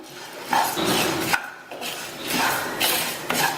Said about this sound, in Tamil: அரிசி பொரிய ஆரம்பிச்சிருச்சு